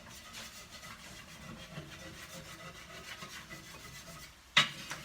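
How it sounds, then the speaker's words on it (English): Soft rhythmic scraping of a utensil across the bottom of a pan while a flour roux cooks, faint and close, ending with one sharp clink. "I'm scraping, as you can see, to get all that good stuff off the bottom there."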